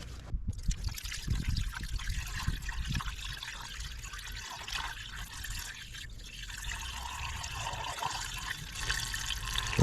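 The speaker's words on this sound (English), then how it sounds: "Now we can add coolant." Coolant being poured into the cooling system of a Kia Soul or Forte engine during a thermostat replacement, a soft continuous trickle and gurgle of liquid, close and fairly quiet.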